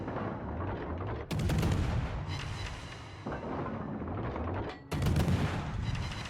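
Naval gunfire in the World of Warships video game: heavy booming salvos from ships' guns, with two loud deep blasts and rumbling echoes between them over constant battle noise.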